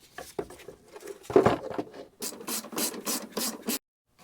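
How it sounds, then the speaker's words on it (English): A Jeep's plastic air box is refitted in the engine bay: close rubbing, scraping and light knocking of plastic parts in irregular short bursts, with no one speaking. "We'll put the air box back."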